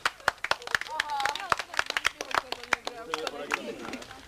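Scattered, uneven clapping from a small group, sharp claps dotted over people talking.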